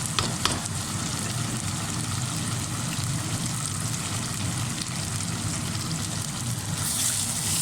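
Shahi badami korma frying in a pot, a steady, dense sizzle that runs unbroken and fairly close with faint stirring scrapes, no voices over it.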